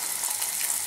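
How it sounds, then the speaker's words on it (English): Salmon laid skin side down in a hot pan hisses with a bright, steady sizzle, close and continuous for under a second with no talking. "Now what you do is you put the salmon in, skin side down first."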